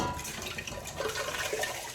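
Canned diced and crushed tomatoes pour into a pot in a steady, wet, sloshing stream lasting the whole moment, close and fairly loud with no talk.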